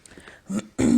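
A person clears their throat with two short, rough bursts, the second louder, close to the listener.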